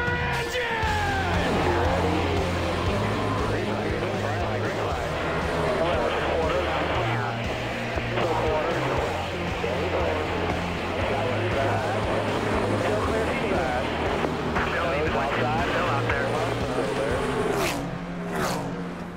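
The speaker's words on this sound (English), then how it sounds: "Gentlemen, start your engine!" Race car engines fire up together at a short-track speedway, making a dense, continuous rumbling roar. A voice keeps talking over the engine noise the whole time.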